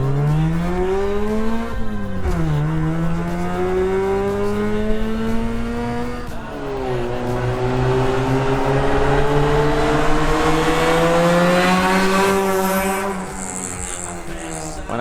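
A Mazda RX7 fitted with a Racing Beat Holley 650 carburetor drives by loudly, its engine note climbing through gears in long rising sweeps, with a brief shift dip and a steady close, continuous roar.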